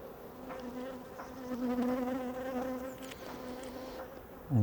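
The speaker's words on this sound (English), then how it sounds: "Okay, and bees all over it." Honey bees swarm over a hive frame during an inspection, making a dense, steady, close buzz that swells slightly midway and holds throughout, with no voices.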